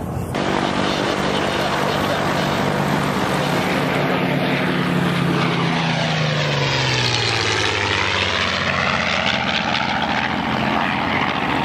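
A Yak propeller plane drones loudly and steadily overhead, its engine pitch sliding downward as it passes close by.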